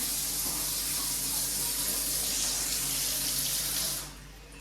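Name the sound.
water poured into a clay pot (matka)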